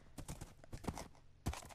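Hooves of a horse in a survival video game clip-clop in a steady walking rhythm, close and fairly loud, with a brief pause before the steps resume.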